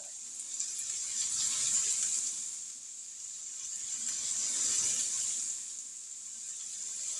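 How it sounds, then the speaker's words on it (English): Hands are washed under a running tap in a home kitchen while sausage cooks, a steady hissing stream of water close by that swells and eases slightly throughout, with no voices. "So now I'm going to wash my hands right quick"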